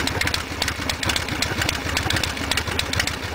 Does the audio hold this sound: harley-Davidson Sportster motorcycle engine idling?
yes